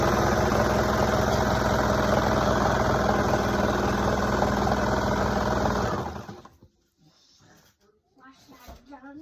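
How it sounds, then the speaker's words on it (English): A serger runs continuously down the side edge of fabric, a loud, dense mechanical whirr for about six seconds before stopping, followed by quieter handling noises and a voice. "I'm just gonna line that up and just serge all the way down."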